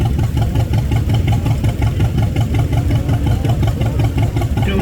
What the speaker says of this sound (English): 1993 John Deere 140 garden tractor